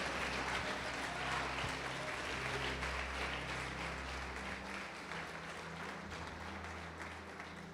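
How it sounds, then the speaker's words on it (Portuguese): A church congregation applauds during a sermon, a thick, continuous roar of clapping that holds loud for several seconds and then eases slightly toward the end, with a low steady hum underneath. "Vamos aplaudir o Senhor Jesus e glorificar."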